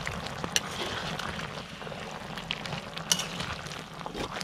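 Laing, taro leaves in coconut milk, being stirred in a pan with sugar and seasonings. The low bubbling simmer goes on throughout, with a few sharp utensil clinks against the pan.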